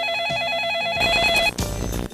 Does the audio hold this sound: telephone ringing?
yes